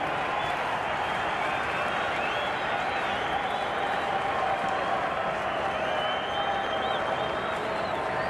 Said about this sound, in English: The crowd are on their feet down there. And so they should be. What a spell of bowling.